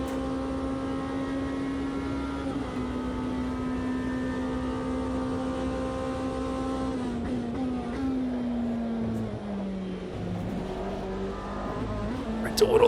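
A Porsche race car engine in the racing game Automobilista 2 drones steadily throughout, its pitch holding then dipping through gear changes, with a voice talking over it.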